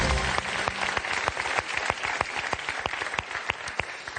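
A television game show audience claps in steady rhythm, distinct sharp claps repeating evenly over a bed of crowd applause.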